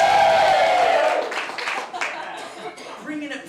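A comedy-club audience claps together with whoops, loud at first and fading into scattered claps and chuckles over about three seconds, with a voice speaking over it.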